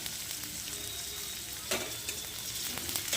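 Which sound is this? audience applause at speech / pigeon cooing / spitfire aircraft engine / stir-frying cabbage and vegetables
stir-frying cabbage and vegetables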